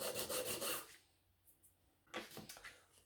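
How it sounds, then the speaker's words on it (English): Acoustic guitar saddle on a Taylor being sanded down to lower the strings, close and fairly quiet: a burst of rasping rubbing strokes, a near-silent pause with a couple of faint taps, then another run of scraping strokes. "That's the saddle sanded down, just to lower the strings a little bit more to make it more playable."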